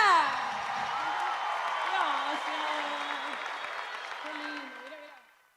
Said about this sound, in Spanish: Aplauso fuerte para Ángela